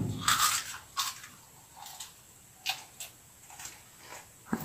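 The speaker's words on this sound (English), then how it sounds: "You know how happy I am to hear you crunch on the chips?" A pet bird crunches on chips, giving several short, sharp crackling bites spaced irregularly, fairly close and quiet, with no talking.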